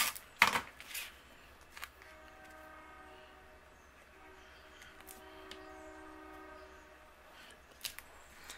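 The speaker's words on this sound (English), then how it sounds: "we have trains going by" Trains pass by outside on a noisy morning, their horn sounding in long sustained tones over a low rail rumble, distant and fairly faint, with a few sharp clicks near the start.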